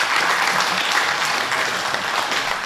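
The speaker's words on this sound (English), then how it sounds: "I'd like to ask you all to join me in a round of applause to honour those who have done just that." Audience applause at a Samoan event addressed by New Zealand's Prime Minister, a dense steady clapping from a large crowd heard loud and close.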